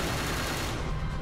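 A short, dense burst of gunfire erupts while an enemy is shot in the action game Dark Sector, loud and continuous with no gaps.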